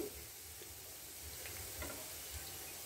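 Faint, steady sizzling of fish kofta frying in oil, a soft continuous crackle with no talking.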